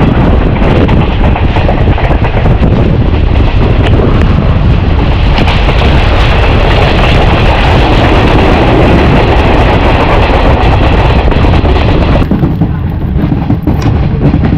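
A passenger train riding the rails on the Ella line in Sri Lanka, a loud, continuous close rumble and rattle of the carriage with no break, the sound shifting slightly toward the end.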